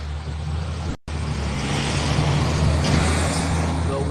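Cars and a truck go by outside as a continuous traffic rumble that swells slightly toward the end, with a brief dropout near the start.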